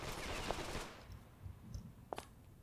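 Gunfire in The Stalin Subway 2 rattles in a short burst, then comes back as a few sharp scattered shots, all fairly faint.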